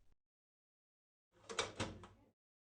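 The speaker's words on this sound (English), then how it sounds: "Slide in the tub and close the cabinet door, making sure that the tubing isn't pinched." A cabinet door on a PureFlow SL dialysis system swings shut, giving a brief soft bump followed by a couple of quiet knocks as it latches, with silence around it.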